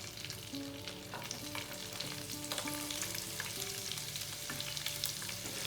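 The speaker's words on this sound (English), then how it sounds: "And you can start adding the star ingredient of this dish, some sliced onions." Sliced onions fry in hot oil with spices for a Bihari caramelized onion chicken curry, giving a dense, constant crackling sizzle close up, with occasional clicks and scrapes of stirring underneath.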